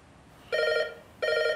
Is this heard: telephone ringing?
yes